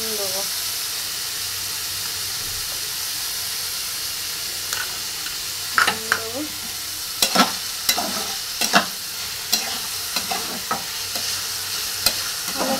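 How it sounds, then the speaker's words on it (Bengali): Flattened rice pulao (chire pulao) frying in a pan gives a steady close sizzle throughout, with a series of scraping, clinking spoon strokes as it is stirred in the second half. "নাড়াচাড়া করবো।"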